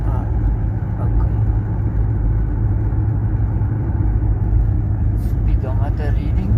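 A car driving uphill on the R62 road at just above 60, with a steady, loud engine and road rumble throughout and brief faint sounds near the end.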